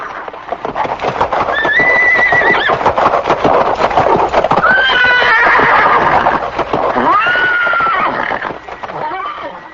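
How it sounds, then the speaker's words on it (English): A horse neighs loudly in several long, shrill whinnies, one after another, close and forceful, with hoof clatter underneath, standing for the demon horse Kesi. "he terrified everyone present with his loud neighing"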